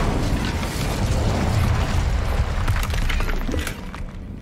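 A fire spell cast in Hogwarts Legacy bursts out as a dense, loud whooshing roar with crackling, sustained for a few seconds before tapering slightly.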